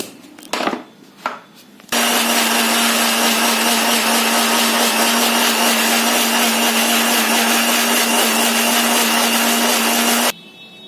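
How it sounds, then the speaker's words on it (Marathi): Mixer grinder blending coconut, ginger, onion, tomato, green chilli and coriander into a chole masala paste, a loud steady whirring motor drone running for about eight seconds after brief handling knocks, then stopping abruptly. "आता हे सगळं मी मिक्सरमध्ये घालते हे बघा"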